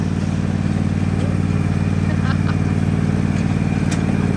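A Husqvarna ride-on mower engine runs loudly and steadily at close range, a constant droning rumble throughout with only faint rattles and ticks over it.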